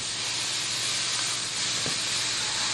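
Philly meatloaf burger patty sizzling in a hot pan, a loud, steady broadband hiss of frying fat that runs on continuously without pause.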